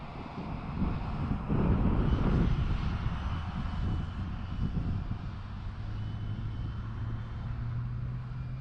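Steady whine of a Freewing A6 Intruder RC jet's ducted-fan motor as it flies in to land with flaps and gear down, heard at a moderate distance with wind buffeting the microphone and no talking.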